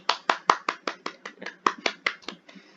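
A short run of separate claps from a meeting group thanking a participant, about a dozen crisp strikes at an even pace, close and sparse, with a faint voice near the end.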